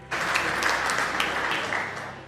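A short burst of audience applause for a panelist at a seminar on HUID, PMLA and legal compliance, steady clapping that swells quickly and fades slightly toward the end.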